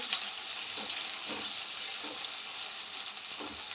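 Medium-thick onions sauté in a pan for butter mushroom fried rice, a soft steady sizzle with a few faint stirring scrapes.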